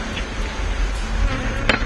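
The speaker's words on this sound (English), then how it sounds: "gently brushes bees away instead of using a commercial spray" Bees buzz around honeycombs at a hive in Hawaii, a close steady insect drone with brief louder passes near the ear.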